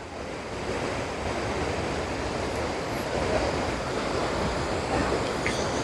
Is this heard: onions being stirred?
no